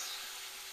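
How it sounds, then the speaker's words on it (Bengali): Malabar spinach stalks frying in hot oil for a pangas fish curry, giving a steady, even sizzle that stays close and fairly quiet for the whole brief moment, with no voices. "আমি প্রথমে পুঁই ডাঁটা এই তেলের মধ্যে একটুখানি ভেজে নেব।"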